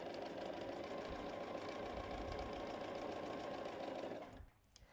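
A sewing machine runs steadily while chain piecing quilt fabric for a Lemoyne Star block, a continuous close mechanical whir and rapid needle chatter that stops abruptly near the end.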